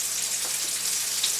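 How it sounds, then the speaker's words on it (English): Country fried steak sizzles in hot oil with a steady, dense crackle and hiss that holds up close the whole way through, without any break. "Going back over it, frying."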